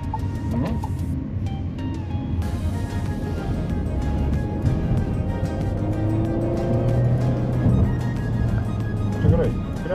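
Renault Symbioz hybrid car accelerating hard at full throttle, a steady, fairly subdued engine and road drone heard from inside, with a voice talking over it throughout.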